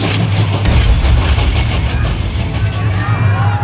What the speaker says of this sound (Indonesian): dentuman mortir dan gelegar meriam dari kapal perang Inggris